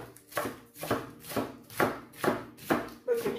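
Knife finely shredding half a head of lettuce on a board, a steady series of about eight crisp chopping strokes at an even, quick rhythm, close and clear with no talk.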